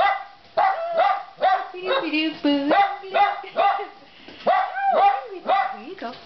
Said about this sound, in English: Who's just barking, little dog?